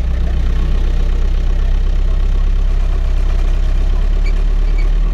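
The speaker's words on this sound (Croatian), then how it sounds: "Ubacim u prvu brzinu, idem samo malo naprijed" A TAM dump truck's engine rumbles loudly and steadily up close, in first gear as it creeps slightly forward, with no talk over it.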